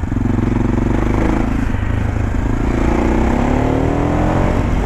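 An SWM Superdual 650 T supermoto-trail motorcycle engine heard while riding, a loud steady single-cylinder drone with pitch rising gradually as it accelerates, close and continuous with wind noise over it.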